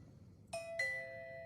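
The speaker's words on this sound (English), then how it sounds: "doorbell." A doorbell chimes a two-tone ding-dong, quiet and somewhat distant indoors, each tone ringing on cleanly with no voices over it.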